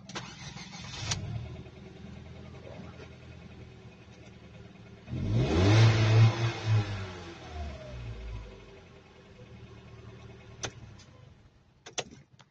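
A Ford EcoSport with a timing correlation fault and low power cranks and fires up midway, roaring loud at first start then settling toward a rough idle, with a few clicks at the end.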